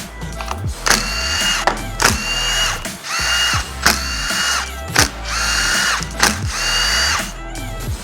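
A power driver with a 10 mm socket backing out the clutch pressure plate bolts on a Yamaha YFZ450R quad, six or seven loud close bursts of whirring and ratcheting separated by brief pauses.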